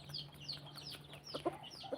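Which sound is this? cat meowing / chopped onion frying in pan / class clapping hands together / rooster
rooster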